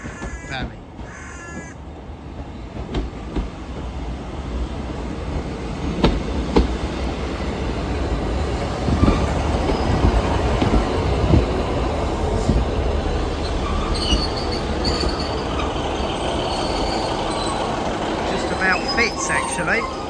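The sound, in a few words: train at Coombe Junction, echoing around the valley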